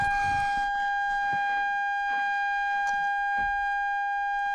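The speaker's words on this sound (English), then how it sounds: "It's just gonna beep, there's nothing to do about it." A steady electronic warning tone from a vehicle with a Cummins ISB diesel engine drones continuously during fault code flashout, with faint thumps and rustling nearby; no one speaks.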